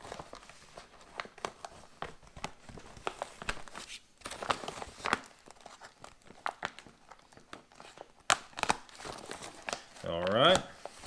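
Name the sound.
cutting open MRE military ration bag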